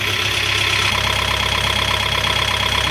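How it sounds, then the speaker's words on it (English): A boat engine runs steadily at idle, a close, even mechanical drone with a faint rhythmic knock and no voices. "Now we go over the engine noise, it's working"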